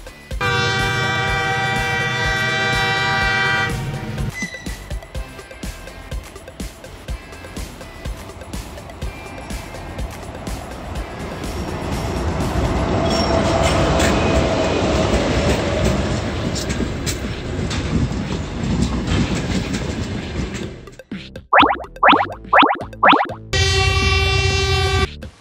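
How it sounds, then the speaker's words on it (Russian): A blue train rumbles along the rails with a building, swelling roar through the middle, framed by tonal horn-like passages at the start and finish and a run of short rhythmic bursts near the close. "Это голубой поезд."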